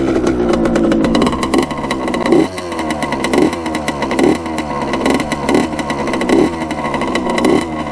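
A restored Honda CR80 two-stroke dirt bike revs hard at full throttle, its loud buzzing engine rising and dropping in repeated sharp blips close by, with no voices.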